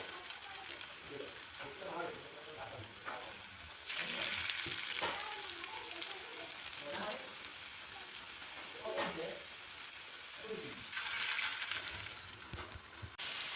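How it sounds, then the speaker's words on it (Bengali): Soybean fritters (bora) coated in gram flour frying in oil, a steady crackling sizzle that swells louder at times, with utensil scrapes and a voice speaking intermittently over it. "এই যে বড়াগুলো এইভাবে ভেজে নিচ্ছি।"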